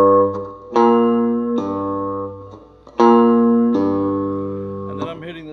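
A cigar box guitar string pulled off to sound a note, two clear plucked notes ringing out close and loud, each fading slowly, followed by a short wavering bent tone.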